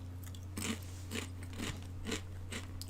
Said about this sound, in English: Oh, also eating. So apologies for all the crunchiness